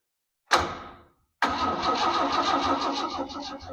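An old one-ton truck engine cranking on a weak battery: a short first crank that dies away, a pause, then a longer steady cranking churn, loud and close.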